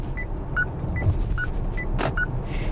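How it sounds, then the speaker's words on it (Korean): A KGM Actyon Hybrid's indicator plays a repeating pair of light electronic chimes at a steady rhythm over a low cabin rumble, with a soft thump in between. "뭔가 깜빡이 소리는 전혀 한국스럽지 않은 그런 소리가 나네요"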